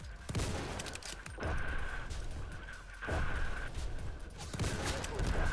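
Sniper and rifle fire in the Roblox WW1 trench game Entrenched, several sharp cracks spaced a second or two apart over a constant battlefield din, with faint voices.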